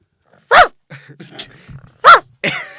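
A person imitates a dog barking, giving three loud, close, yelping bark-like bursts separated by quieter vocal noises.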